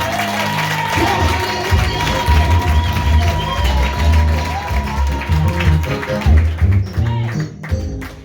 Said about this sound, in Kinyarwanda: Komera Yesu amashyi menshi cyane